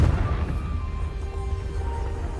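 A Confringo blast in Hogwarts Legacy lands with a deep boom at the start, followed by a rumbling decay and a faint ringing tail, heard alone.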